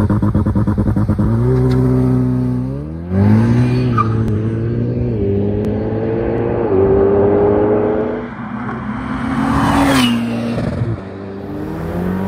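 A 710 hp Ferrari F8 Spider in race mode accelerates hard through the gears, its engine note climbing loud and close in repeated rising sweeps with brief dips at each shift, no talk over it.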